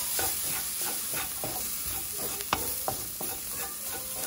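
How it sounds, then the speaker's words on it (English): Onion frying with curry powder, cooked until nearly burnt, gives a steady close sizzle throughout, with scattered scraping stirs and a few sharp clicks of a utensil against the pan. "I cook it till it kind of like burnt the onion."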